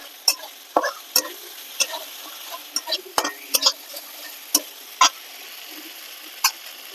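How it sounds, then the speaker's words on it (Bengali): Spice paste sautéing in oil for Bengali prawn malai curry, nearly done with the oil separating, gives a soft sizzle broken by scattered sharp ticks and scrapes of stirring, close by with no talking. "এই দেখো মশলার তেল ছেড়ে গেছে, কষানো প্রায় হয়ে এসছে।"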